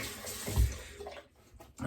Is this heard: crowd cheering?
no